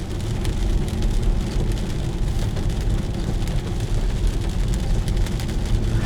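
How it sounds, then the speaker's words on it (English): Heavy rain drums loudly and steadily on a car nearby, heard from inside, a dense continuous patter with a low rumble underneath and no voices. "It's been raining for the past 48 hours here, and it's going to continue to rain all day long."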